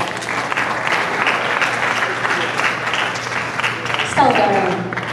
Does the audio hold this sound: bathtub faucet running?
no